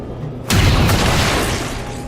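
A single loud boom bursts out in a video game as gunfire destroys a turret, with a rumbling, sustained blast tail that slowly fades, no talk over it.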